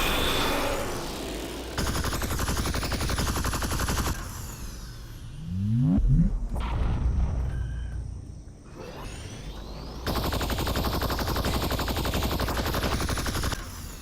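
Rapid automatic gunfire in a shooting video game, sustained bursts that stop briefly mid-clip and then resume at full loudness, with a turret battle going on.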